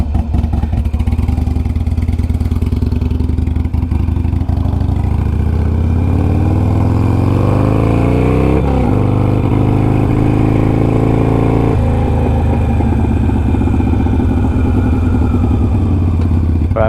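A Harley-Davidson Sportster Iron 883 engine idles loudly and close up with a steady, lumpy low rumble, its pitch rising and falling slightly as the revs shift.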